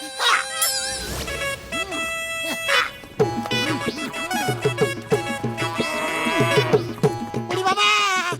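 A cartoon goat in the Hindi animated series Motu Patlu bleats loudly and repeatedly, its wavering, quavering cries following one another throughout and standing out close and clear.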